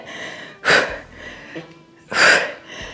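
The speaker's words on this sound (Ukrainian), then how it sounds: "Видих. Видих ще." Two sharp, forceful exhales during an abdominal workout, each a short breathy burst about a second apart with quieter breathing between, close to the mic.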